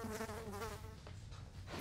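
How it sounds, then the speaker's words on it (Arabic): A housefly buzzes in a comedic Egyptian film scene, a soft, steady droning hum with slight wavering pitch that runs throughout, ending in a brief louder burst. "ما انا لازم بموت الدبانة دي"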